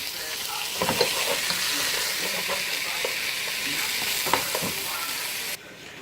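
Frozen organic chopped spinach stirred in a hot pan, a loud continuous sizzle with scraping spoon strokes scattered throughout, close and without talk.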